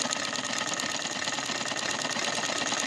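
A sewing machine runs steadily for a few seconds, stitching a sack made from discarded rice sacking, with a constant close mechanical whir and no pauses.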